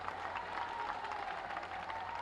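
Steady applause from a large crowd at a political election rally in Patna, Bihar, continuous dense clapping with no pauses and no speech.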